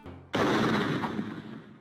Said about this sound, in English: Just hearing that gunshot go off, the sharp, heavy BAM that fades as fast as it came, gives me chills.